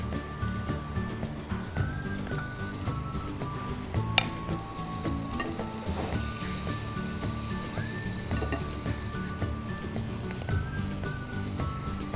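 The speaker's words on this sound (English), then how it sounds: "In goes the butter." Butter sizzles steadily in a pan between batches of coffee pancakes, a continuous close frying hiss lasting throughout, with a soft tonal melody running underneath.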